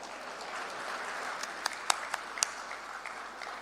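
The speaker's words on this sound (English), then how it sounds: "a huge round of applause, please." A crowd applauds at an inauguration event in Punjab, faint and distant, a soft rustling patter of clapping with a few sharper individual claps near the middle.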